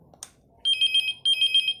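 A Beetel B17 landline phone rings at middle volume from about a foot away. A brief click comes first, then two bursts of fast, warbling electronic trill, clear and fairly loud, with no voices.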